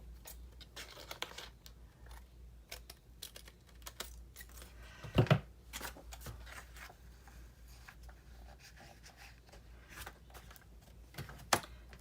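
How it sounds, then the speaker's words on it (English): Scissors snipping strips from old book pages, a steady run of small crisp cuts with paper rustle, two sharper louder snips standing out, close and alone without talk. "I'm just cutting a whole bunch of strips to cover up some of that text on the inside"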